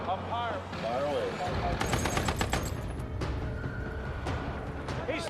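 Machine gun fire breaks out, rapid bursts of loud shots following a shouted voice, mixed with a low droning engine and rumble, with voices continuing under the gunfire.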